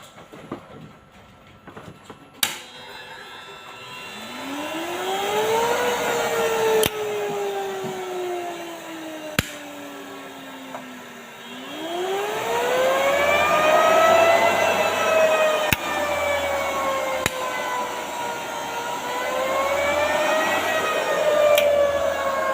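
A Nichiyu 60 electric forklift is driven forward and its accelerator twisted during a test after a control board repair. Its motor whine rises in pitch, drops back, then climbs again in a second sweep, close and fairly loud, with occasional sharp clicks.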